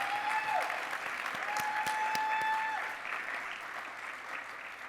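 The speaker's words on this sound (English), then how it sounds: "Let's give them one more round of applause." Audience applause at a Ner Tamid 2024 celebration event, a fairly quiet, steady wash of clapping with a few louder claps, thinning slightly toward the end, while faint tonal whistle-like sounds drift over it.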